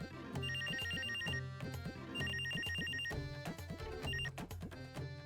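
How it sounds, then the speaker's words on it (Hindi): A mobile phone rings with a repeated electronic ringtone melody of beeping tones in several bursts over a beat, steady and moderately loud with no talk. "एक तो ये मोबाइल फोन जो है इन्होंने खाम खाम में तंग किया हुआ है।"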